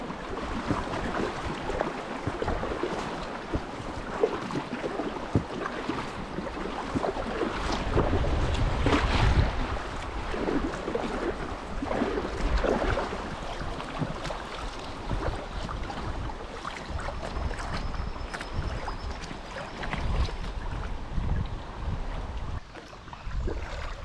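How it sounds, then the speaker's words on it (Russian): Continuous rushing water of river rapids surrounds a small boat on a river in Perm Krai, with steady broadband wash and wind buffeting the microphone, no voices. "Изредка нас продолжают радовать перекаты и быстрины."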